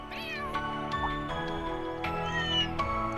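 Cats meowing in the video game Trails through Daybreak 2, a cluster of several short meows and a drawn-out caterwaul heard up close over a steady bed of game music, with no talking.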